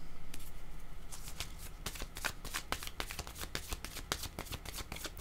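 Playing cards are shuffled by hand for a card reading, a close, quiet run of crisp riffles and snaps in quick irregular bursts.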